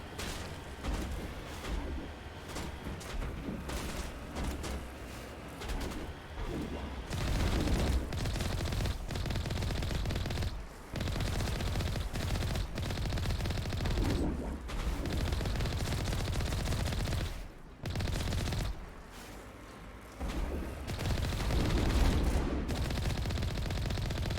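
Sustained, dense gunfire from enemy snipers in an underground facility in the video game Mass Effect, loud and continuous with repeated sharp shots and brief lulls.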